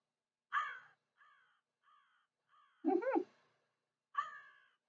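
A lone crow gives several separate caws, loud ones at the start, middle and end with quieter calls between, against a silent background.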